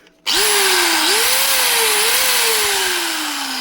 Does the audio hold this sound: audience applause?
no